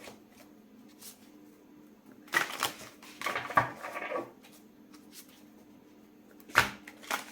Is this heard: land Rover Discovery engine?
no